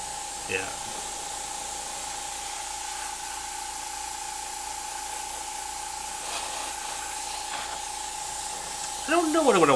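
An airbrush sprays paint onto a skull and female figure artwork. It makes a faint, continuous hiss with a steady whistling tone, running for nearly ten seconds and swelling briefly near the end.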